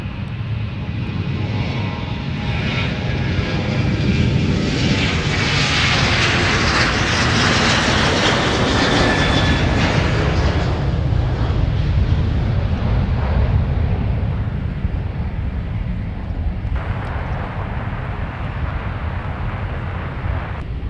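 A Delta Boeing 737-900ER bound for Nashville departs the south parallel runway at Minneapolis–Saint Paul, its jet roar building loud and close before tapering off as the aircraft climbs away.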